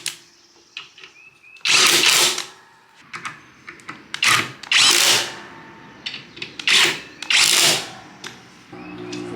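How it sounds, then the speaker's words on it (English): An impact wrench drives the gearbox bolts on a John Deere 1025R's 60-inch mid-mount mower deck, firing in several loud, close bursts of hammering rattle separated by short pauses and quieter clicks. "Now I'm going to run them in with an impact"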